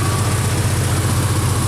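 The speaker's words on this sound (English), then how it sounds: "We've got a pretty big exhaust leak over here somewhere. You can hear it tapping." Engine with points ignition idling steadily with a big exhaust leak, a continuous loud low rumble with a rapid tapping pulse running through it, no talk.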